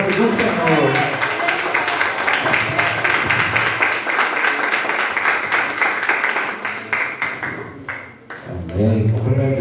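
A church congregation claps steadily for several seconds, dense and continuous, with voices mixed in, then the clapping fades out.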